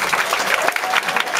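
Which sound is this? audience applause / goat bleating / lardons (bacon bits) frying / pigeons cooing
audience applause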